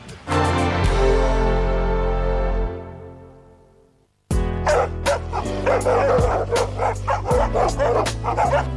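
A kuvasz, the Hungarian guard-dog breed, barks loudly and close, in a rapid run of deep, repeated woofs, after a long, sustained tonal passage and a short pause.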